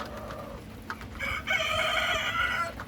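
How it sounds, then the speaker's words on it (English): Backyard chickens, Buff Brahmas and a Rhode Island Red, cluck and call close by in a rainy coop, with a louder run of clucking in the second half over steady background noise. "We've got both Buff Brahmas, Laddie, Luna, Marigold, the Rhode Island Red."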